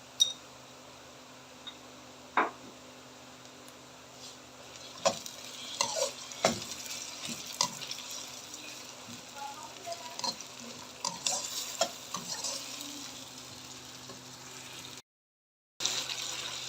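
Onions fry with ginger garlic paste for chicken biryani, giving a faint steady sizzle broken by scattered clinks and scrapes of a spoon stirring the pan.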